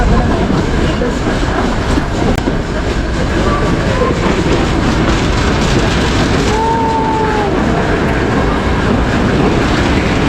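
A toy train runs on the Ooty to Mettupalayam railway with a loud, steady rumble and rattling clatter heard from close on board, and a faint wheel squeal rising briefly midway.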